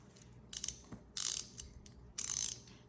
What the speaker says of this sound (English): Here is our ratchet.